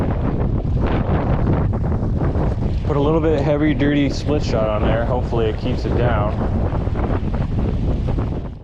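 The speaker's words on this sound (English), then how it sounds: "I'm sure you guys can hear that wind." Heavy wind gusts roar against the microphone nonstop at a boat ramp at night, with waves splashing below while someone talks over the blustery noise.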